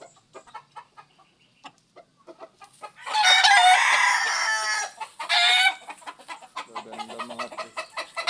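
Breeding chickens and roosters cluck and crow loudly and close by, with two long bursts of crowing amid scattered clucks, and someone speaks briefly.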